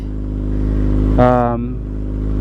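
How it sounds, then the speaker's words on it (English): Kawasaki Ninja ZX6R, a 2021 model fitted with an M4 Street Slayer slip-on exhaust, holding a steady idle burble, then briefly revved once in a sharp rise before settling back to idle. "Hopefully the mic does some justice for the exhaust"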